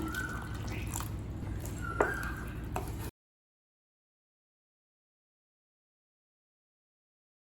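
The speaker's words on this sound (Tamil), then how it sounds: "1/4 கப் தண்ணி சேர்க்குறேன்." Water trickling and pouring into a pan of soya chunk gravy, a steady liquid splash filling the first three seconds before the sound cuts out to silence.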